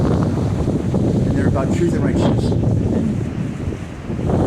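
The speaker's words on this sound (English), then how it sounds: "I'm telling you, it's so windy. It's super windy." Strong wind buffets the microphone in a steady broadband roar throughout, with a person talking over it.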